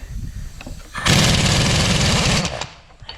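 A 1-inch impact wrench rattles loudly for about a second and a half, hammering a nut off a Cat 740 dump bed hoist cylinder, then winds down, with quieter shop noise before and after.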